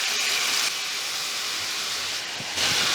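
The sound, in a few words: cauliflower frying in a tawa pan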